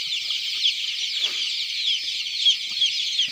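Chickens on an ULU chicken farm cluck and chatter in a dense, steady flock noise, with a few sharper calls standing out over the continuous din.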